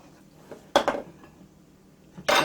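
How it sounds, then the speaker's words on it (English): Shrimp hitting a hot pan for shrimp Alfredo pasta, two bursts of loud sizzling hiss with a brief clatter between, fairly close. "Adding my shrimp in there."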